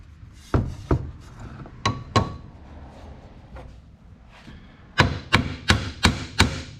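A hammer taps a new universal joint into place in a vise while a Chevrolet K-10 Blazer drivetrain is being rebuilt. There are sharp, close metallic knocks, first in spaced pairs and then in a quicker run of about six strikes.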